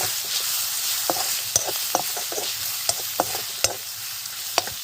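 Potato pieces and three green chillies fry in hot oil for a lentil and fish curry, giving a steady broadband sizzle with sharp scrapes and clinks as the pan is stirred, close and continuous with no talking.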